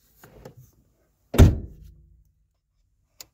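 Driver's door of a 1995 Mazda Miata MX-5 shut with one solid, close thunk after a few faint handling noises, then silence and a small click near the end.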